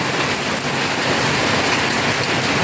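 Steady, dense rainfall pours down heavily in the Philippines, a continuous broadband hiss with no voices over it, with some wind.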